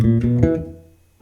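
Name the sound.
bass guitar playing a line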